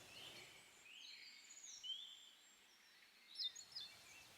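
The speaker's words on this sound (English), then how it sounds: "All you can hear are the sound of birds, and it's lovely." Birds singing in quiet mountain countryside in China: faint, distant chirps and thin whistled calls that come in scattered bursts over a soft background hush.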